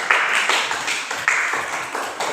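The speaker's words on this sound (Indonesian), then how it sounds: "Tepuk tangan dulu dong buat kelompok 1." A class applauding for a group of students during a lesson, a burst of clapping from many hands with several swells and dips over about two seconds, with no talk over it.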